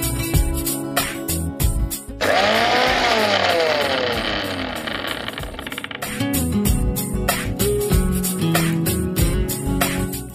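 A mixer grinder coarsely grinds fried chillies and garlic for a coconut chutney, its motor whining loudly for a few seconds and shifting in pitch, with clattering sounds before and after.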